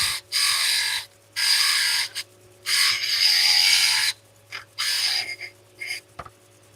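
Card scraper rasping against a ring spinning on a lathe, close, bright scraping bursts of about a second each with brief pauses, under a faint steady machine hum.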